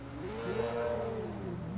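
A motorcycle engine in Watch Dogs revs up and then eases off in a single rising and falling whine, quiet and steady, with no talking.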